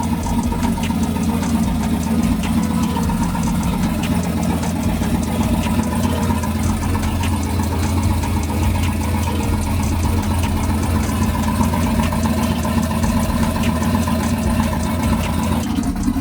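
A boosted 4.8 V8 with freshly refinished heads idles loudly and steadily, a close, continuous rumbling drone with a faint rhythmic knock throughout and no voices.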